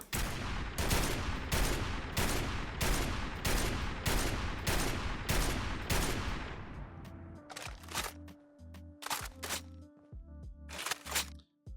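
A Barrett .50 cal rifle firing in Fallout 4, a long run of loud, evenly spaced heavy shots followed by sharper, irregular cracks and clicks of mechanical handling, with no talking.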